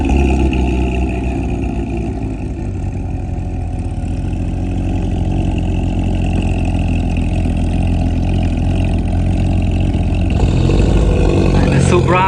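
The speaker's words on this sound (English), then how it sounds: "here's the GT3 cold start" A Porsche GT3 engine fires up from cold in a parking lot during heavy rain, settling into a loud, steady high idle with a continuous droning hum and a slight rise near the end.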